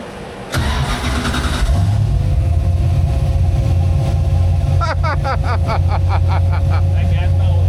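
Tiny camper's engine cranks and catches, then settles into a loud steady idle with a few quick throttle blips, close up, with people talking over it.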